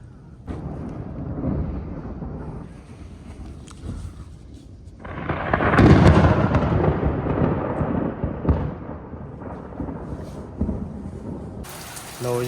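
Thunder crashes during a heavy night rainstorm over a Punjab village. It swells into a loud, rolling rumble partway through and slowly fades back into the steady hiss of rain, with a short sharp noise at the very end.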